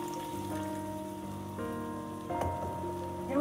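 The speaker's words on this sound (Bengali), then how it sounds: "মশলাটা একটু কষিয়ে নেওয়ার পর আমি সামান্য পরিমাণে জল অ্যাড করছি" Spice masala for soya kheema sizzles and bubbles in a pan after a little water is added, a steady close hiss under faint background tones, swelling briefly near the end.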